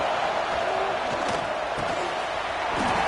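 A football stadium crowd roars early in a game, a dense, loud, continuous wash of noise with scattered thuds and no clear voice on top.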